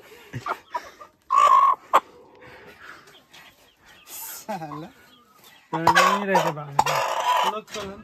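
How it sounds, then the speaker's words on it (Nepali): Local chickens cluck and a rooster calls in short, close bursts, with quiet gaps between them and a longer crow-like cry near the end; a person speaks briefly among the calls. "अरू लोकल मुर्गी रहेछ नि"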